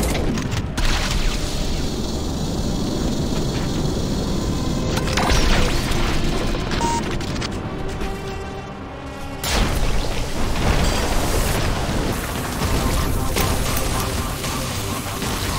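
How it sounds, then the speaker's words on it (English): Rockets, plasma rifle fire and ion cannon blasts in the shooter game Turbo Overkill: a dense, loud, continuous barrage of explosions, crashes and mechanical clanks with almost no letup. "shooting four rockets into the air, activating Turbo Time, catching the rockets with the plasma rifle, hurling them at the enemies, and then activating the ion cannon"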